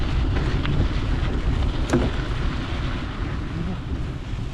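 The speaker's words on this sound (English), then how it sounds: "It's just a brutal wind." Strong, cold wind blasting across the microphone, a continuous rough low roar with gusty fluctuations and a faint click or two on top.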